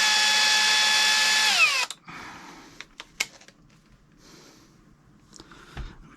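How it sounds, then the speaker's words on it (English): A power drill whines loudly and steadily while drilling into a mini karaoke jukebox, its pitch dropping as it winds down, followed by scattered clicks and handling knocks. "So we're going to drill to that level and try and get these in."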